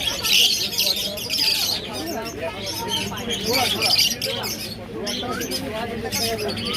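Pet lovebirds and cockatiels at a Serampore bird market keep up dense, overlapping chirps and squawks throughout, with a crowd murmur and voices underneath.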